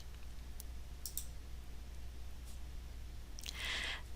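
A few faint, sharp clicks from a computer mouse sound at close range over low background hum, followed by a brief soft rustle near the end.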